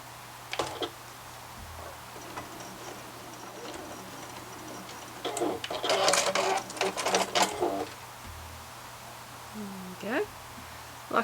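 A sewing machine runs in a few short bursts while it stitches a fabric face mask, its rapid mechanical whirr heard close by. Birds coo and chirp in the background.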